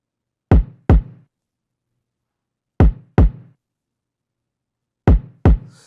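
Kick drum in a drum mix, punchy isolated thumps in three pairs of two hits each, deep and loud with short decay and silence between pairs.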